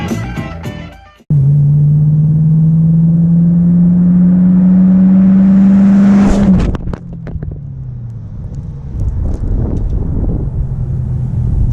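A Chevrolet Camaro engine roars up into a long, steady, loud rev that climbs in pitch, then drops off sharply and settles into a rumbling idle, close by with wind noise.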